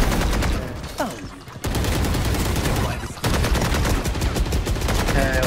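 Rapid gunfire from Valorant, dense bursts of shots in quick succession that cut off twice briefly before resuming, loud and close, with faint talk underneath.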